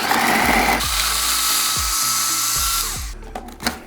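A blender purées jerk chicken marinade spices and white vinegar into a paste. Its motor whirs loudly in rising spurts, then stops and leaves a few clunks and knocks.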